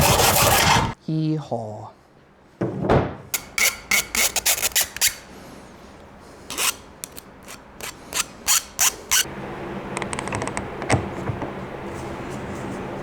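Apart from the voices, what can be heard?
filing a burr off the end of wood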